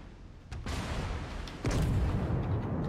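Cruiser guns firing high-explosive shells in World of Warships: two heavy booms about a second apart, each followed by a long rumbling roar, close and loud, with no talk.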